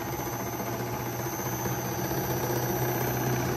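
An old electric motor, restored after dismantling and cleaning, runs steadily at lower RPM, a constant hum with a slight wobble from imbalance caused by the small fins inside, recorded close with no talking.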